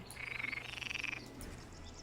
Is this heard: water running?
no